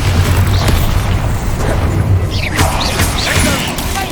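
A Bombarda spell detonates in Hogwarts Legacy, a loud booming blast that holds across the whole moment over a dense rumbling low end, with scattered crackling debris and magical shimmer layered on top.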